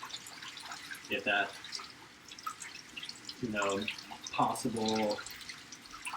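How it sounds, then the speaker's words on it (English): Fresh fruit rinsed under a running kitchen tap, with short bursts of splashing water and dripping between spoken remarks at close range. "So I just bought these. Let's wash these, rinse them out."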